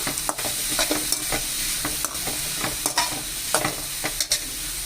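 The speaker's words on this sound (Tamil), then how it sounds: "சேர்த்துட்டு இது எல்லாத்தையும் ஒன்றா மிக்ஸ் பண்ணி விட்டுருவோம்." A banana stem stir-fry with fennel powder being stirred in a pan, with a steady sizzle underneath and frequent sharp scrapes and clacks of the spoon against the pan, close and alone.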